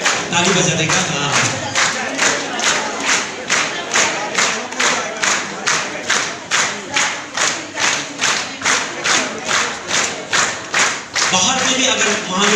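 A crowd claps in a steady unison beat at a Mother's Day celebration at CRC Yupia, brief talking at the start and end framing the regular claps.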